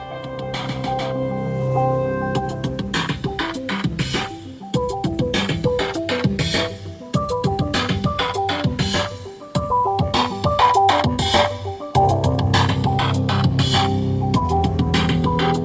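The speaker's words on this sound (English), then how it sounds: "Now let's take a listen to the standard 6-speaker audio system." Full-band music with strong bass plays steadily for about fifteen seconds through the standard six-speaker audio system of a 2018 Hyundai Elantra, with brief dips and a few short pauses between sections.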